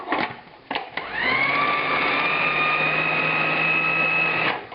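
A blender running steadily for about three and a half seconds as it purees salad dressing ingredients, a loud, even motor whine starting after a couple of brief knocks, then cutting off near the end.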